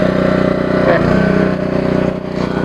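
A pressure washer's motor drones steadily while a beaver pelt is fleshed on a beam, a continuous loud engine hum with a brief pitch dip near the middle.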